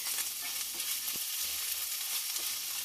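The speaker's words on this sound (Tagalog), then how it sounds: "gisahin lang yung cabbage hanggang sa parang na siya" Cabbage sautéing in a hot pan gives off a steady, close sizzle that fills the whole stretch, with one brief stirring knock partway through and no one talking.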